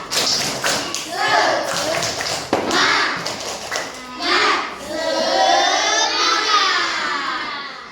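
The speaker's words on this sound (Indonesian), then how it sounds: "Tepuk semangat." Children in a classroom do a rhythmic spirit clap, crisp patterned claps and taps in quick bursts, mixed with young voices chanting along.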